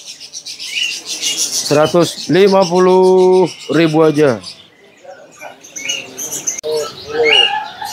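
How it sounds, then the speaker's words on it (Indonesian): A perkutut cemani zebra dove coos at a bird kiosk, a few drawn-out, tonal calls rising over market chatter, with someone speaking close by before and after. "di kios ini ada yang namanya burung perkutut cemani ya teman-teman nih"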